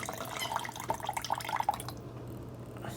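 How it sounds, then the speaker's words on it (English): Water trickles from a purified water machine into a shot glass, a short run of small splashy drips over a low background hum, ending in quiet. "we're gonna go over to the purified water machine and give it a little bit of water"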